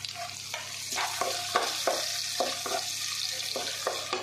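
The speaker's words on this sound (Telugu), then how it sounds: "టమాటా బాగా మిక్స్ అయిపోయి గుజ్జు వచ్చేదాకా వేపుకోవాలి." Onions and tomatoes fry in a pan for upma, a continuous sizzle broken by regular scraping strokes of a spoon stirring every half second or so, close and moderately loud.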